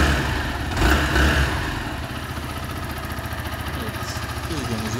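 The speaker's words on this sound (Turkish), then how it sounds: "bu şekilde de bir motor çalışması ve egzoz sesi var." A Zontes C200 (ZT200-C) chopper-style motorcycle idles with a steady, even exhaust note. The engine chugs continuously at a moderate level, with a slight swell near the start before settling into a smooth, unwavering idle.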